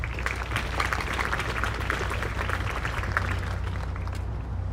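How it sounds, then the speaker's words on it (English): A crowd at a city State of the City address in Miami Gardens applauds a development team, steady dense clapping throughout at a fairly loud, even level. "You all give them a round of applause."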